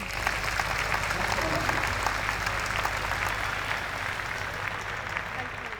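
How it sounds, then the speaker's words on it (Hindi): Enthusiastic applause from an audience at a school alumni meet thanking the music and dance teachers, dense and continuous clapping filling the hall at close range for several seconds. "तो जोरदार तालियों के साथ धन्यवाद करना चाहेंगे अपने म्यूजिक एंड डांस टीचर्स का"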